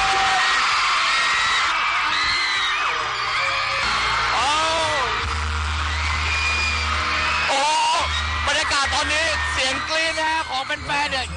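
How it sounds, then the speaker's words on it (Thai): Crowd of fans screaming loudly and continuously at a concert meet and greet in a mall atrium in Bangkok, shrill overlapping shrieks and whoops with music thumping underneath. "ตอนนี้เนี่ยได้ยินเสียงกรี๊ด"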